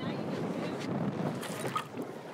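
Steady broadband wind buffeting the microphone, a constant rushing roar with a few gusty swells and faint splashing underneath.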